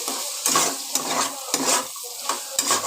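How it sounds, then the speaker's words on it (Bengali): Potatoes seasoned with salt, turmeric and Kashmiri chili powder fry in a pan while being stirred, a steady sizzle broken by four or five louder scraping sweeps of the spoon, close and with no talk. "আলুগুলো আমি একটুখানি খানিক্ষণ ভেজে নিচ্ছি নাড়াচাড়া করে"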